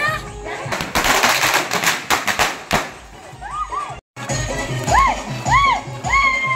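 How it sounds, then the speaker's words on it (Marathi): Firecrackers burst in a rapid crackling volley at an outdoor village popti party, loud and close. They then thin to a few pops while voices talk over them. "पण फटाके लावले"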